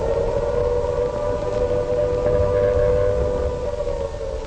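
An air raid siren in London during the 1940 Blitz wails in a sustained, steady tone, loud and unbroken, with a low rumbling background beneath it.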